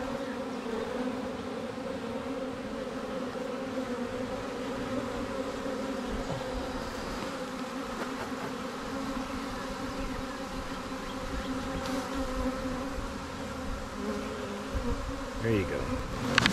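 A swarm of bees buzzing and fanning at a new home, a dense, steady drone that runs throughout, close and fairly loud, with no voices over it.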